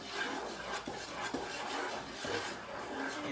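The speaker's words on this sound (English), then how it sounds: "Just give it a little stir" A spoon stirs half and half into chicken noodle soup in a pot, giving soft repeated scrapes and light clinks against the metal, quiet and close with no talking.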